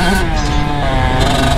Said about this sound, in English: I'm getting pummeled by his exhaust right now.